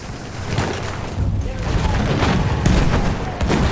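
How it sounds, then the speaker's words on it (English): Enemy machine gun fire in the video game Battlefield 1 comes as rapid bursts and booming impacts over a dense battle din, loud and near, with a voice talking over parts of it. "That's an enemy machine gun"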